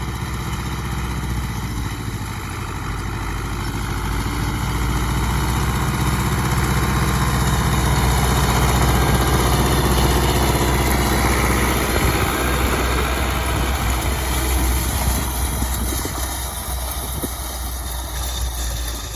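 Tractor engine pulling a DEMETRA SZD-3000V mini seed drill while sowing winter barley in a dusty field, a steady loud mid-to-low engine drone with rattling implement noise throughout, no speech.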